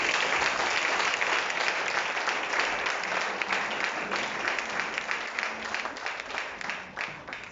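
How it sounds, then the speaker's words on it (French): Applause from a church congregation, steady dense clapping filling the whole stretch, loud and close with a slight thinning toward the end. "Acclame Jésus très fort."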